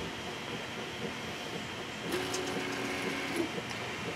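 A 3D printer with a CR-Touch probe auto-levelling its bed, producing a faint, thin stepper-motor whine and soft mechanical movement over a steady background hiss.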